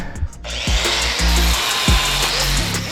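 A power grinder works down welds on a C8 Corvette drift car, a loud, close, high whine that begins abruptly and holds steady, with low bumps and shifts in pitch as the disc presses into the metal.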